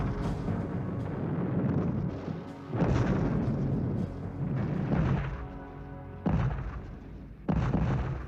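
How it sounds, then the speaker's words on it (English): Heavy artillery barrage on German defensive lines in the Battle of Berlin: repeated deep booms and rumbling blasts, several loud impacts rising out of a continuous roar, with no talk. "The ferocious barrage unleashed on the German defensive perimeter"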